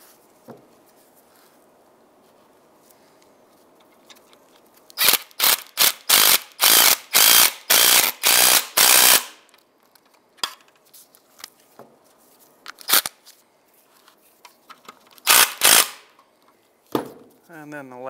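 A ratchet wrench tightens nuts on the front catalytic converter of a 2007-2015 Mazda CX-9, heard up close as a rapid series of clicking strokes in one burst, then a few scattered clicks after a pause.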